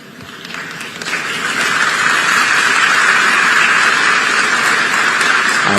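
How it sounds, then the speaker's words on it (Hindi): A crowd applauds a speech by Prime Minister Modi after his return from Japan and China. The clapping starts moderate, swells within the first two seconds into dense, loud, continuous applause, and holds steady with no voices over it. "आया हूं इसकी ताली बजा रहे हो।"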